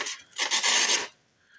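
A cheap gas station pocket knife slicing through a plain sheet of paper, giving one close, dry rasping cut of about a second, alone.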